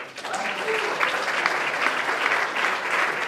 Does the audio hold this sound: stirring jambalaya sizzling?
no